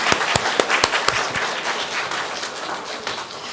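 A church congregation claps in welcome for returning members, a burst of applause with a few sharp individual claps at first, settling into steady, moderately loud clapping.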